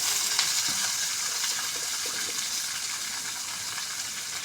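Flat beans frying in a pan with fried onion and chili, giving a steady, even sizzle with faint stirring scrapes, close and continuous with no talking.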